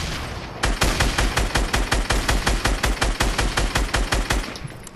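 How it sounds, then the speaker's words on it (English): Rapid automatic gunfire from Fortnite, a steady burst of about twenty sharp evenly spaced shots that sound loud and close over roughly four seconds. "He's shooting grenades at me."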